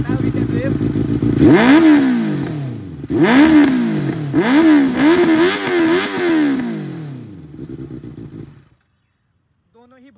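A Benelli 600i inline-four motorcycle engine revs hard, loud and close, in several rising bursts and swoops before settling back toward idle; a voice shouts an exclamation once, briefly, over the engine.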